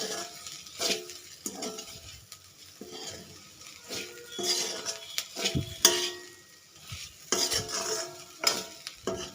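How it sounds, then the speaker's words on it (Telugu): Cauliflower florets stir-fry in a pan, with a soft sizzle broken by repeated scraping stirs and light clinks of a spatula against the pan, fairly quiet and close. "ఇట్లా వేయించుకోవాలండి ఒక ఫైవ్ మినిట్స్ వేయించుకుంటే సరిపోతుంది"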